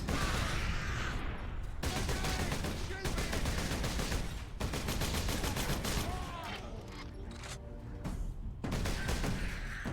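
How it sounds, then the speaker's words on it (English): Gunfire crackles in a video game firefight, dense bursts of shots and booms filling nearly the whole stretch with brief lulls, loud and continuous, with players' voices mixed in under the noise. "they're shooting us from an amount of distance away"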